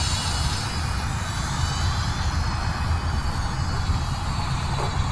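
The electric motor of a tiny 14-gram Flyzone Fokker Dr1 RC triplane runs at about 40 to 50 percent throttle, flown on a Spektrum transmitter. It gives a steady, thin buzzing whine that holds level throughout, with no voices.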